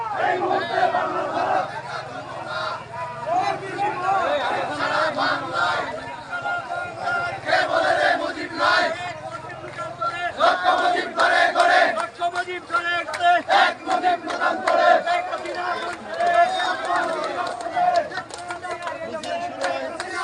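Large crowd at an Awami League protest rally in Feni chanting political slogans in loud rhythmic unison, voices surging and repeating continuously, close and dense.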